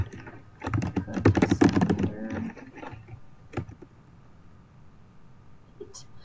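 Rapid clatter of keys being typed on a computer keyboard in a short burst, fading to a few scattered keystrokes, heard close with quiet room tone.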